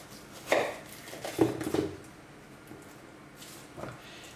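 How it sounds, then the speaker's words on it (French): A knife cuts through a pineapple into thin rounds, giving a few soft, crunchy chops and squishy slices against a board, close and quiet with pauses between cuts. "La première étape donc, on va couper les fruits. Donc là je vais m'attaquer à l'ananas."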